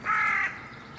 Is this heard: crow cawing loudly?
yes